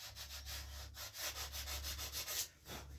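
Sandpaper rubbing over rawhide stretched on the back of a wooden paddle bow, a close, steady run of rapid back-and-forth scratchy strokes with a low hum beneath.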